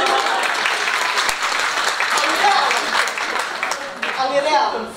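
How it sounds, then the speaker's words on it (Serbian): Audience members clap at a book promotion in a culture hall in Prijepolje, with a dense, fairly close round of applause that carries on for several seconds and mixes with voices. "Slobodno vi mene aplauz kad mislite da sam zaslužila."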